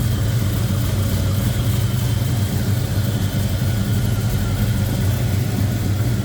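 Small-block 350 V8 with EFI and headers in a 1966 Chevrolet Chevelle hardtop idling steadily, a smooth low rumble with even pulses, close and constant throughout with no talking.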